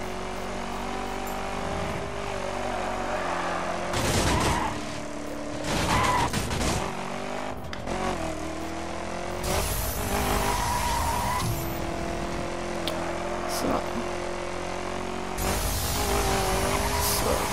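A car in the video game The Crew accelerating hard, engine revs climbing through gear shifts, with repeated bursts of tire squeal and skidding, loud and continuous with no talk.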